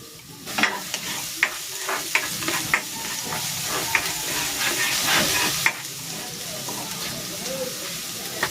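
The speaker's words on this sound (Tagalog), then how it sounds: "Maglalagay ako ng cooking oil. Igigisa ko na tong bawang." Crushed garlic sautéing in hot cooking oil in a pan, a steady close hiss and sizzle broken by regular scraping taps of a spatula stirring, with a few brief bursts of louder spitting.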